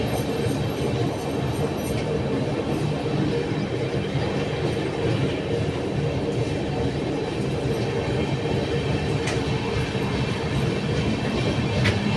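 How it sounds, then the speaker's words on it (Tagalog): Steady loud rumble and rhythmic clatter of a passenger train on a long-distance run from New Delhi to Patna, heard from inside the carriage, continuous throughout with no talk. "So maandar pa rin yung train."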